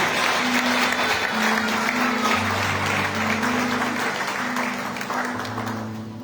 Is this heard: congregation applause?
yes